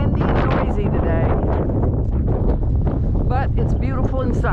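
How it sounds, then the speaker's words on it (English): A strong gale buffets the microphone in loud, continuous gusts on a sunny day outdoors, with voices briefly heard through the roar. "going to be horribly windy and noisy today,"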